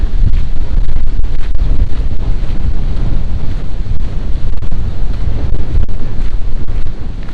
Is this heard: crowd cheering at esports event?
no